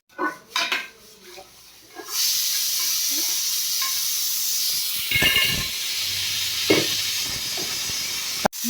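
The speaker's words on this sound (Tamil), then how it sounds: "நல்லா ஒரு கொதி வரட்டும்" Mutton kulambu gravy heats toward a boil in a pot: a few utensil clinks and scrapes, then a steady close hiss and bubbling sizzle, broken by occasional stirring knocks.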